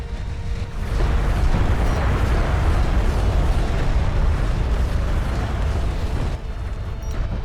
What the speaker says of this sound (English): So that's what's happening when these artillery shells land.